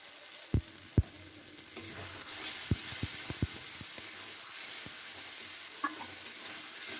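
Potatoes and spices sautéing in a pan for a Bengali katla fish curry, a steady close sizzle with scattered sharp spoon knocks and scrapes against the pan, with no talking.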